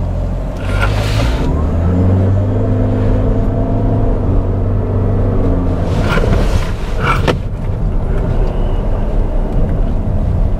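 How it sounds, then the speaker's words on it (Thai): Toyota Corolla Cross GR Sport during an emergency swerve: a loud, continuous engine and road roar from inside the cabin, with rushes of tyre and wind noise rising at a couple of points. "เป็นการหักเลี้ยวฉุกเฉินนี่นะครับ"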